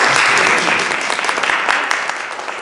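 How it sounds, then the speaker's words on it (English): Attendees at a neighborhood listening session give a loud, close round of applause, thick clapping that gradually thins and fades toward the end. "Why don't you give a round of applause?"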